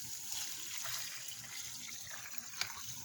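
Water runs and trickles over a freshly cleaned bluegill fish during a rinse, a soft, steady flow of moderate loudness with small splashes and one brief sharper spatter near the end, without any voices.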